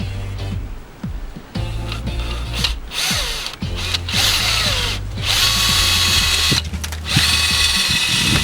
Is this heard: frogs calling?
no